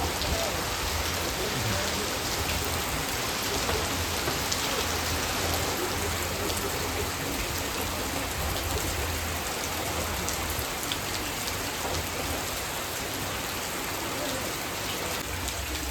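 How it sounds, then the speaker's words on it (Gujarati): Heavy unseasonal rain pours down in a Botad village with a dense, constant roar of drops hitting surfaces, unbroken for the whole stretch. "ફૂલ વરસાદ ચાલુ થઈ ગયો"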